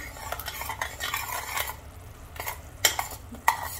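Spoon stirring a ladoo mixture of gond, dry fruits and mishri with black pepper and dry ginger powder in a pan, irregular scraping strokes with a few sharp metallic clinks over a faint sizzle.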